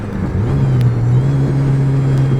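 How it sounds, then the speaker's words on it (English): A Honda Civic with a rare B-series engine, built to about 400 horsepower, idles and then lifts into a steady, close, sustained engine drone that holds firm without dropping away, with no talk. "And I can rev it out all the way."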